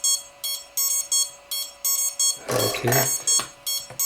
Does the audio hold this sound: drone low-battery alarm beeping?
yes